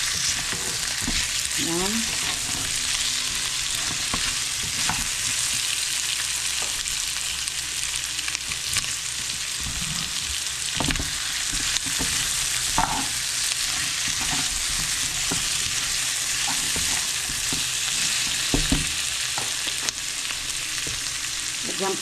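Pork pata meat sizzling loudly in a hot pan while being stirred, a dense constant frying hiss with scraping strokes throughout and a brief spoken word early on.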